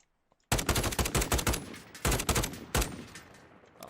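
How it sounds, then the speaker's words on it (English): Call of Duty gunfire as warning shots: after a brief silence, loud rapid bursts of automatic fire hammer in, pause, then come again in two more clusters before trailing off. "Just some warning shots."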